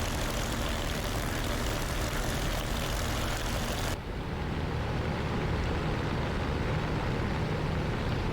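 A Bf 109 fighter's piston engine in the DCS flight simulator roars continuously during a landing, a dense, loud drone whose upper edge dulls partway through as the power eases.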